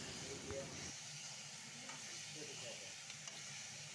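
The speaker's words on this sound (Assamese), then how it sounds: "এতিয়া এইখিনি ধুনীয়াকৈ আকৌ অকণমান সময় ভাজিব ভণ্টিয়ে" Pre-fried meat stir-fried again in a pan, a soft steady sizzle with faint scraping, close and fairly quiet.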